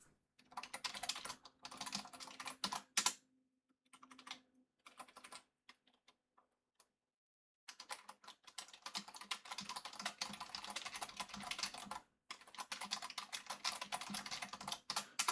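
Someone types on a computer keyboard in close, rapid bursts of clicking, broken by pauses and a stretch of near silence before the typing resumes steadily.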